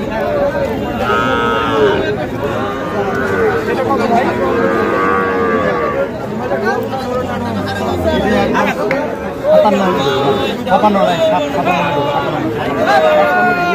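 Cattle at a busy Chittagong cattle market low and moo repeatedly amid loud crowd chatter and bargaining voices, the animals close and prominent throughout.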